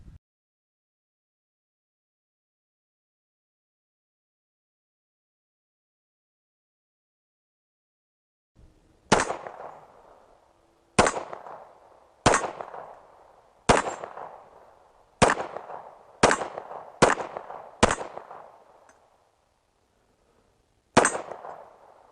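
Kimber Rapide Black Ice 9mm 1911 pistol at an outdoor range: after a long silence, nine sharp shots in an irregular string, each with a short ringing echo, loud and close.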